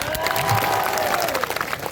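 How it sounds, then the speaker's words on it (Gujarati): A crowd at an outdoor political rally claps and cheers for police officers: a dense, steady burst of applause lasting a couple of seconds, with a faint sustained tone running underneath. "અહીંયા જેટલા પણ પોલીસ અધિકારીઓ હોય એમના માટે એકવાર જોરદાર તાળીઓ પાડી લો"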